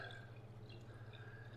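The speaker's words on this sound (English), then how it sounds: "Fill it up with water" Water trickles and drips into a rice cooker holding eggs, a soft, continuous liquid sound over a low appliance hum, heard close by but quiet.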